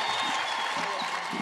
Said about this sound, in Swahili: Tushangilie na makofi.